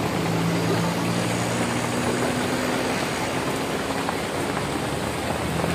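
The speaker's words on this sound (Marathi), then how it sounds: "दिवसा बी पाणी चालूच आहे पाऊस" Rain pours steadily and heavily onto a surface, a dense unbroken hiss that stays close and loud the whole time, with a low engine-like hum faintly underneath.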